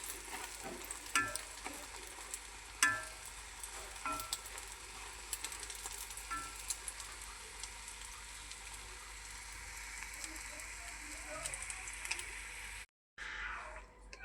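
An egg frying in a pan at a home breakfast, a soft steady sizzle with occasional light clicks and scrapes of a utensil, close and fairly quiet, briefly cutting out near the end.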